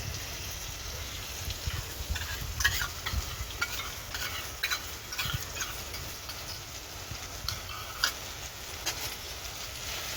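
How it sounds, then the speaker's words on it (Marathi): Yogurt being stirred into an egg biryani mixture in a pan, a steady soft scraping and slurping that runs continuously for about ten seconds, with a light sizzle underneath and no talking. "तर आता दही पण मिक्स करून घेते मी"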